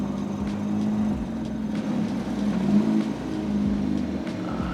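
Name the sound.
Ferrari car engine revving as it is driven in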